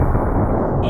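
A .50 caliber rifle blowing apart when fired at a Kentucky range: one loud, close, broadband blast that fills the whole short moment and then cuts off abruptly.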